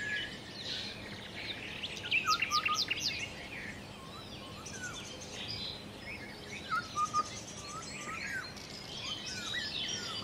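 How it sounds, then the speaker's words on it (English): Several birds sing and chirp in a forest, bright trilling phrases coming in bursts over a soft, continuous background hum of insects. "the beautiful birds whose songs were the very fabric of the forest"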